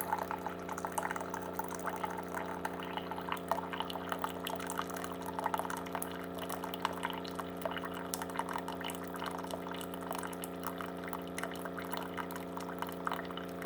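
A Keurig coffee maker brews water into a cup, a steady pouring trickle with small drips over a constant low pump hum, close and continuous throughout.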